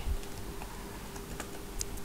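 Steady typing on a computer keyboard, rapid light key taps in an irregular patter at close range over a constant background hiss, with no talk.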